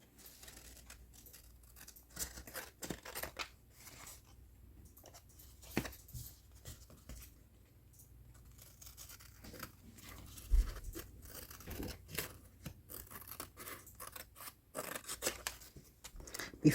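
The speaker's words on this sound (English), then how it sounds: "now we can go ahead and cut off the excess." Scissors snip away excess paper from a handmade double tag with a secret pocket, giving a string of quiet, close, irregular crunchy cuts with short pauses and no talking.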